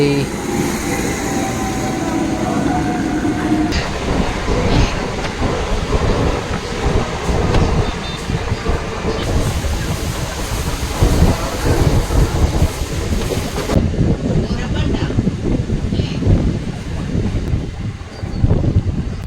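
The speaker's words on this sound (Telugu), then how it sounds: "ఫైనలీ గైస్ ట్రైన్ వచ్చేసింది" A train pulls into a station with a long, heavy rumble and rattling wheels, loud and close, with gusts of wind buffeting the microphone and brief voices in the background.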